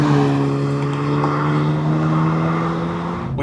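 An Acura Integra Type S with traction control off is driven through twisty roads, giving a loud, steady engine hum with layered harmonic tones that drops away at the end.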